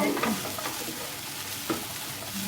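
Bread is stir-fried in a pan as a home evening snack, with a continuous sizzle broken by a few soft scrapes and knocks as it is tossed and turned, close by and with no talking.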